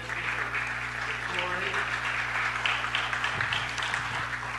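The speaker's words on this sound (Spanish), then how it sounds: "Un gran aplauso." Applause from the audience at a city council meeting, sustained loud clapping through the whole span, with faint voices mixed in beneath it.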